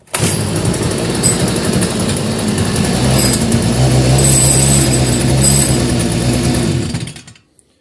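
A Stihl FS45 petrol string trimmer starts up after its switch has been replaced, then its small two-stroke engine runs loud and close with a high, buzzing drone that rises slightly before cutting off abruptly near the end.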